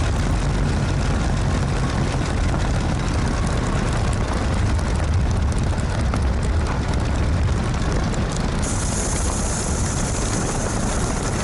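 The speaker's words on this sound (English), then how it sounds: "We 3-point the Spitfire, but today there's a crosswind from the left, so I'm aiming for a 2-point." Supermarine Spitfire propeller aircraft landing in a left crosswind, heard from inside as a loud, constant engine and propeller roar with heavy wind rush, steady throughout.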